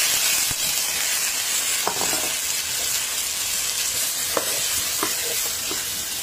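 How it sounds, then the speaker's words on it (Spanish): Onion, tomato and garlic fry in a hot pan for a stew of nopales and peas, a loud, dense sizzle with a few sharp spoon scrapes and taps while being stirred, and no voices. "Ahora pues voy a poner aquí la cebolla, tomate y el ajo."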